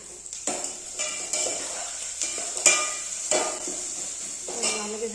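Puris fry one by one in hot oil in a home kitchen, with a soft continuous sizzle under repeated scrapes and clinks of a metal utensil against the pan.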